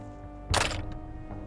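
A bolt fired from a reconstructed Roman ballista strikes its target, one solid thunk with a brief cracking edge, close and loud, fading quickly into a low background hum.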